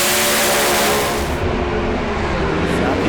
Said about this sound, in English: Tony DeFelice smoked the tyres right at the hit of the throttle